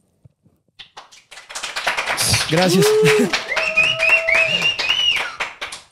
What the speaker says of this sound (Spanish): La aplaudida está pesadita.